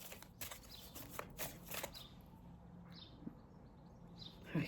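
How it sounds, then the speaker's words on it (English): Oracle cards being shuffled on a table, a quiet run of soft riffling flicks and papery slides in the first couple of seconds, then fainter light rustling in a hushed room. "I'm just going to give this a good shuffle."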